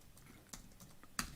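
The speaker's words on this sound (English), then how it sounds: "So while I'm typing this" Scattered keystrokes on a computer keyboard during a coding session, a few soft clicks with one sharper tap, close and quiet with no talking.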